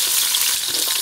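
Sliced onion and garlic fry in leftover fried-chicken oil for a chili chicken dish, giving a loud, continuous bright sizzle and crackle up close with no voices.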